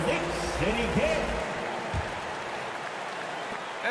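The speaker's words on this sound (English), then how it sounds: "Another big cheer for your Knicks City Kings." Crowd noise swells at a Knicks basketball game in an arena, a burst of cheering and applause that fades over a few seconds, with an announcer-like voice and a sharp thud partway through.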